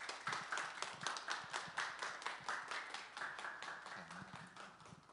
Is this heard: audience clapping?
yes